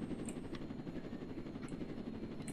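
A video game helicopter gives a faint, steady rotor thrum with a low pulsing chop, joined by a few thin high electronic blips.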